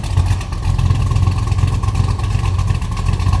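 A deep, rumbling 454 big-block V8 in a 1969 Chevrolet Chevelle hardtop idles steadily up close, its low throaty burble continuous with slight rises in revs.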